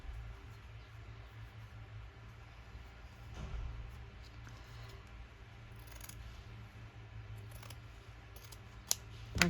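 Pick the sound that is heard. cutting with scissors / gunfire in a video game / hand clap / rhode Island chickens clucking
cutting with scissors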